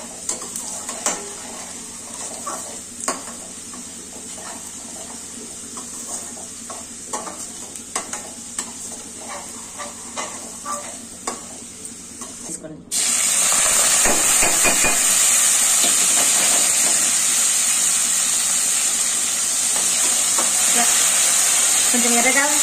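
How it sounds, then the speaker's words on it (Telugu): Fenugreek leaves and onions fry in a pan with light scraping and tapping as they are stirred, then a sudden loud sizzle bursts up and holds steadily close. "మెంతకూర ఫస్ట్ వేయించుకొని పక్కకు పెట్టేసుకోవాలి."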